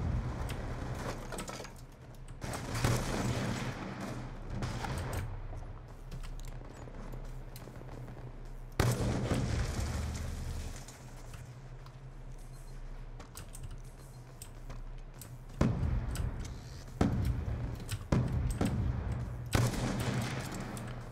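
Sniper rifle fire from Call of Duty Black Ops 2 online play, a few loud cracks spaced apart over steady game ambience, with some busy clattering in between.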